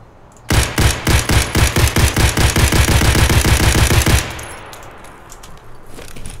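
Rapid SKS semi-automatic rifle fire in Escape from Tarkov, about eighteen sharp, loud evenly spaced shots in quick succession, then the echo tails off into quiet ambience.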